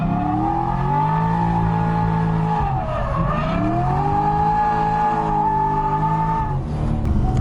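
A 489 whp C6 Corvette drifts on track, its engine note loud and near, dipping sharply then climbing back up as the revs rise and fall, with a faint hint of tire squeal and no talking.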